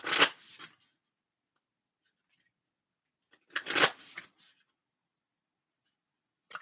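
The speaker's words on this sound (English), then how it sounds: "So I'm gonna get some cards from the Moonology deck." A deck of Moonology oracle cards being shuffled and drawn, heard as two brief, close riffling rustles separated by a few seconds of quiet, with a faint tap at the end.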